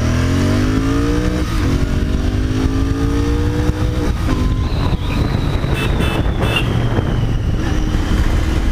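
A Royal Enfield 650 twin motorcycle, an Interceptor 650 or Continental GT 650, revs loudly and rises in pitch, heard over heavy wind noise as it accelerates.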